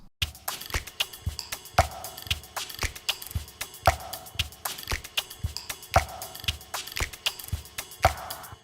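Layered drum machine percussion from the Social Jet Lag preset kit: a ride sample, a looping hi-hat pattern and finger snaps. Together they form a steady, evenly spaced rhythmic groove of crisp, bright hits, moderately loud, with no voices.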